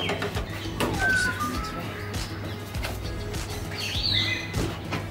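At a wildlife rescue shelter holding pigeons and other birds, chirps, tweets and soft cooing sound close by, with occasional wing flaps over a low background hum and no talking.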